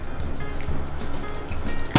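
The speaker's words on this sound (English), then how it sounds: "So I'm gonna add water" Water poured into pancake batter mix in a bowl, a steady close trickle and splash running the full two seconds with no talk.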